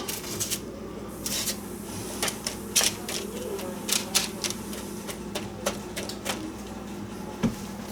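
Pumpkin seeds are spread by hand on parchment on a baking sheet, making quick dry rustles and taps in uneven bursts, close up over a low background hum.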